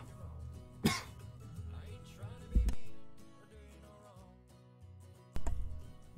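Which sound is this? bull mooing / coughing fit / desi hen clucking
coughing fit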